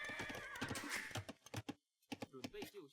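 A horse neighs from a stable in a strategy video game, a bright whinny surfacing through busy game effects and fast commentary talk.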